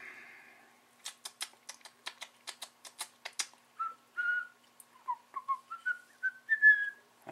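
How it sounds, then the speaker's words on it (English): A person whistles a short run of rising and falling notes, quiet and close, after a quick series of dry clicking taps in an otherwise silent room. "I can whistle."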